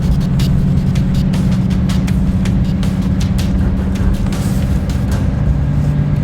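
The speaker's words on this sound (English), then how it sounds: "Now the truck's doing all the work between the engine and the exhaust brake." A RAM 3500 Cummins HO dually truck on a steep grade gives a loud, steady diesel drone with the exhaust brake working, a continuous low rumble with rattling and wind noise inside the cab and no talk.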